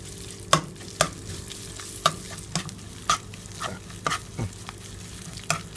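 Curry paste being stir-fried in a pan for a dish of razor clams, with a sizzling bed under regular scraping strokes of a spatula roughly every half second, close and clear.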